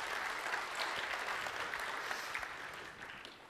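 An audience applauding at the OSCON 2011 Open Source Awards, a dense, even wash of many hands clapping that holds steady, then eases slightly toward the end.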